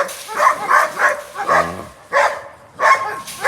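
A dog barks repeatedly at close range, sharp loud woofs coming in uneven bursts with a brief whimpering whine between them.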